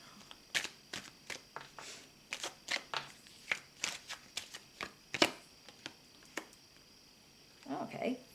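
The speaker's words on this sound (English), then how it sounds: "let's see if I can pull an oracle card" An oracle card deck being shuffled by hand, with a steady series of soft, crisp card flicks and riffles up close, then a brief rustle at the end.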